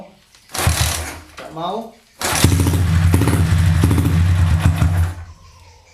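A Yamaha Jupiter motorcycle is kicked over, a short cough of engine noise, then it catches and idles steadily with a throbbing note for several seconds before cutting off; a voice speaks briefly between kicks.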